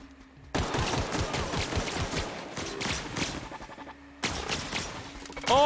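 Rapid gunfire in The Outer Worlds video game, a dense, steady stream of sharp shots for several seconds, broken by a brief pause before firing resumes.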